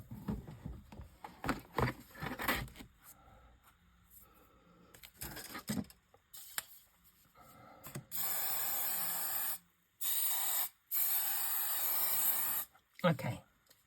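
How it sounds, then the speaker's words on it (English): Hairspray fired inside a spray box in several long hissing bursts, each a few seconds, broken by short pauses, following quieter handling clatter and rustling. "give it a quick burst with a little hairspray"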